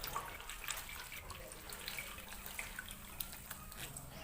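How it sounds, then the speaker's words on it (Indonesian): Water squeezed by hand out of washed papaya leaves, a soft continuous trickle and patter of dripping liquid with small splashes, close and fairly quiet, no talking. "Selanjutnya diperes supaya airnya benar-benar tiris."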